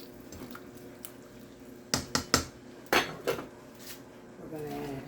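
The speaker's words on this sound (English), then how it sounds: "Stir it in there." A bag of vegetables is stirred into soup in a pot, with a few sharp clinks and knocks of a utensil against the pot over a quiet background and a soft wet slosh near the end.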